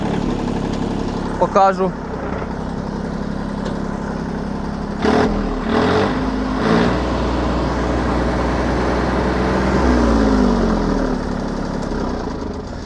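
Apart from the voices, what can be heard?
small tractor running a rotary tiller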